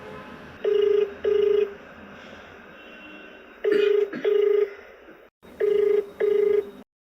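A telephone ringback tone sounds while an outgoing call is placed, with three loud, steady pairs of rings separated by pauses and light background noise between them, and no one speaking.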